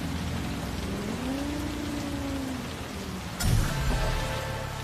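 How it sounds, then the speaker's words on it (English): Steady heavy rain pours in the Cyberpunk 2077 game world, a dense continuous hiss with a low engine-like hum underneath, then a sudden crackling burst and added tonal hums near the end; no speech. "This rain is freaking cool"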